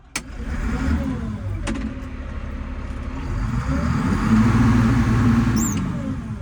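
A 1996 White 6195 pre-emissions farm tractor engine fires up with a sharp start and settles into a steady, throbbing idle. The rumble is close and even, swelling a little louder toward the end.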